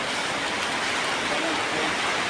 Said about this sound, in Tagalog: Tumalakas ang ulan!